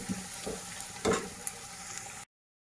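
Onion frying slowly on a low flame gives a soft, steady sizzle with a few brief stirring clicks, close and fairly quiet, cutting off abruptly before the end.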